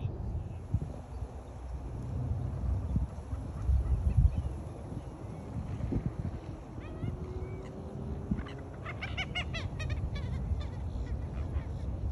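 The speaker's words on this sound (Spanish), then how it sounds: "Son bien raros esos pajaritos y hacen como gato" Wild birds near a lake in a Florida park give odd, cat-like mewing calls, heard as scattered short cries over outdoor background noise, with a brief burst of quick repeated notes near the end.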